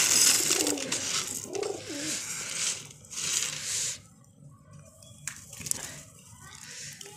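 Pigeons coo softly in low, throaty bursts amid rustling and fluttering as they gather at feed, with someone speaking intermittently nearby.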